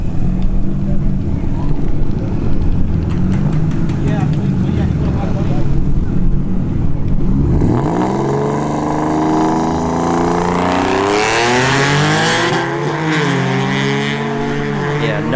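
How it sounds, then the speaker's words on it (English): A V6 turbo Mustang and a Mini Cooper launch side by side at a test-and-tune drag strip, engines droning loudly before rising revs and rapid gear-change sweeps dominate as the cars pull away, with crowd and track noise beneath. "V6 Turbo Mustang versus the Mini Cooper in the left lane"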